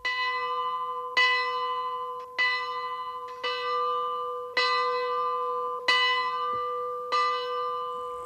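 A bell rung by pulling a cord strikes seven times at a steady, slightly uneven pace, each clear ringing tone decaying slowly into the next, loud and close with no voices.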